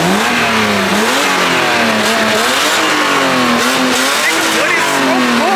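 A twin-turbo Mercedes-AMG sits with one tire spinning, its engine revving hard and the tire squealing loudly and continuously, close up, while voices shout over the racket.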